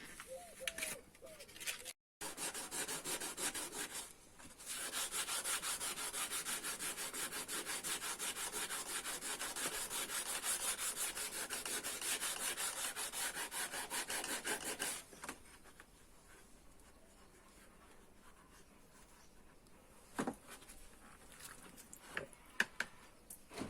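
Steady, coarse rubbing of 80-grit sandpaper on a car mirror cover for about fifteen seconds, then a quieter pause with a few scattered scrapes.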